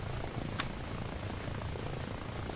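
Steady, fairly quiet rotor and engine drone of a military helicopter lifting off in Arma Reforger, a continuous broadband hum with no voices over it.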